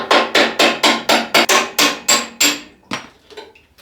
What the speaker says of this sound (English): now it's just a matter of hammering these pins out